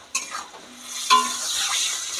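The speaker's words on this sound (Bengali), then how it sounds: "ভালো করে নেড়ে নেব।" Spices and salt being stirred into frying food in a pan, a utensil scraping in two distinct strokes over a steady close sizzle.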